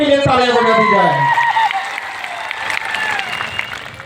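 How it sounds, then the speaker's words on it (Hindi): Rally audience bursts into loud applause and cheering after a voice speaks briefly at the start, the clapping continuing steadily throughout. "एक बार जोरदार आपके लिए तालियां बजा दी जाए"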